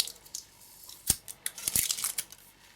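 Plastic insulation being cut and peeled off a PS3 controller cable, a few sharp snipping and tearing crackles, close and fairly quiet, with no talking.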